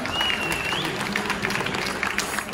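Audience applause at an agricultural show for a spray drone project team, a steady burst of clapping with a faint whistle and some crowd noise mixed in.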